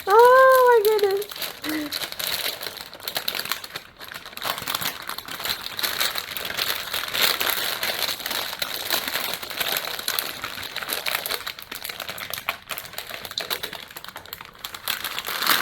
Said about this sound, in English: I'm actually rolling up the wax paper that I'm not using anymore